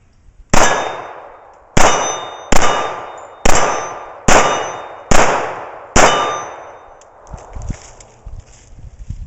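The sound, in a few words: Remington R1 1911 .45 ACP pistol shots ringing steel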